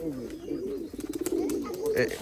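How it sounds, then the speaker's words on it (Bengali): Cooing pigeons at a home loft, a low rolling burble with a short rapid pulsing run partway through, heard beneath nearby conversation. "দেখাও তো তোমার বাড়ির সেরা কবুতরটা দেখাও তাহলে"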